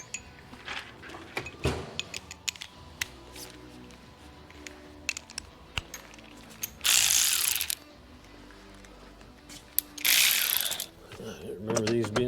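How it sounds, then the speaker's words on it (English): A 10 mm powered ratchet spinning bolts on a Toyota Tundra, scattered clicks and taps from handling and then two loud sustained whirring bursts of the motor, close and alone. "Let me get a 10 millimeter powered ratchet."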